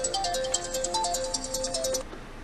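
An incoming phone call rings through Apple CarPlay on the multimedia system of an Audi A4/A5, a loud repeating electronic ringtone pattern playing alone for about two seconds before it is cut off.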